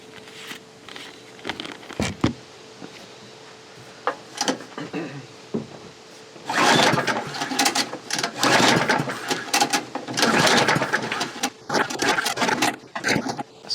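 A go kart engine salvaged from a scrap yard is cranked over, starting with scattered clicks and clunks, then a rough, loud sputtering run in uneven bursts for several seconds before cutting out.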